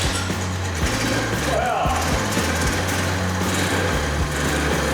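A 1979 Honda three-wheeler engine, smoky and a little ratty, idles steadily up close with a rough, even putter running alone.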